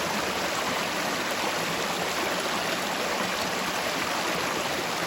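A river flows steadily along a wilderness stretch of the Appalachian Trail, its broad, even rush holding close and constant throughout with no voices.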